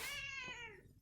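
A healthy cat gives one clear, close meow that falls in pitch and trails off over about a second, with no voices.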